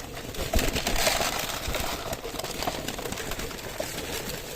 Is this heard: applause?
no